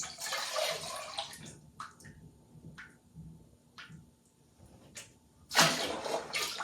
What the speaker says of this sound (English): I'm going to pour my oatmeal on the inside.